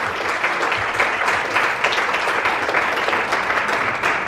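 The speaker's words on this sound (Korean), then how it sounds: "한인 정치인 모두에게 여러분 큰 박수 부탁드리겠습니다." An audience at the Korean politicians' forum opening in Seoul gives a dense, sustained round of applause for Korean politicians, loud and even throughout.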